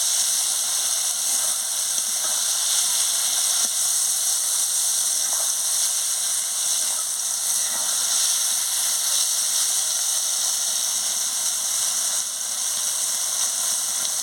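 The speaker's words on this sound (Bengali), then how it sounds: "বেগুনটা ওর সঙ্গে দিয়ে ভেজে নিচ্ছি" Eggplant frying in hot oil with neem leaves in a pan, a loud, continuous bright sizzle and hiss that stays steady throughout with no talking.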